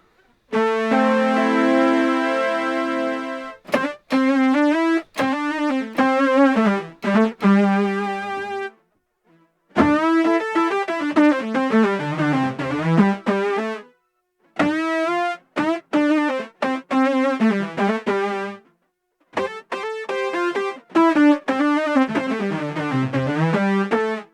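A guitar played through a synth pedal, either a Boss SY-200 or a Lost & Found, with phrases of buzzy, harmonically rich synth notes bending and swelling, separated by short silences, loud and close with no talking.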